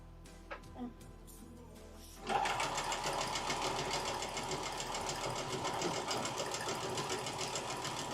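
A sewing machine with a quarter-inch presser foot stitches quilt pieces together, starting after a couple of seconds of quiet handling and then running in a fast, continuous mechanical rattle close by.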